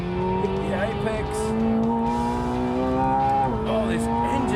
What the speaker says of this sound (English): Oh, this engine is incredible.